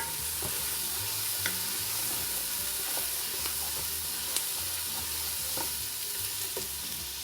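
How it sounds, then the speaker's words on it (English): Onion and garlic sweat in a pan over lowered heat for a Madras curry, giving a soft, continuous sizzle. Scattered light clicks and stirring taps sound throughout, and no one talks. "We want to let the onion and garlic sweat."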